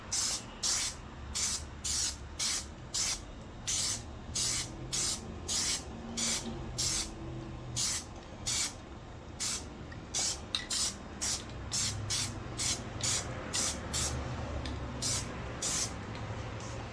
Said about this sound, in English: paint our base first with our red plastic dip